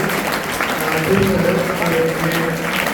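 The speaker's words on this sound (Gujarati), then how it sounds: "આપણે એમને તાળીઓના ગડગડાટથી એ ટીમને વધારવી છે" Applause from a school admission-festival crowd greeting a professor's team as it steps forward, steady dense clapping filling the room throughout, with a voice talking over it partway.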